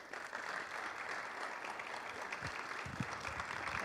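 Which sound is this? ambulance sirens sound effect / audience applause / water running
audience applause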